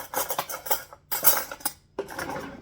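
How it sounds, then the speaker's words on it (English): Metal spoon scraping and clinking against a bowl while mixing cinnamon and sugar, three short bursts of quick, close rattling stirs with brief pauses between them. "I'm just going to stir it together."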